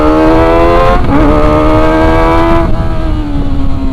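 A Kawasaki ZX-25R four-cylinder sport bike on a test ride, its engine screaming at high revs with a sustained whine that dips briefly as it shifts, then climbs again, loud and close.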